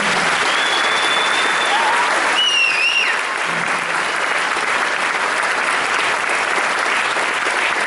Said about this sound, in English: please join me in a round of applause for the cadre and drill sergeants of Charlie and Delta